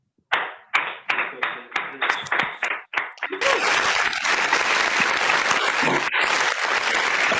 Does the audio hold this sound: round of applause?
yes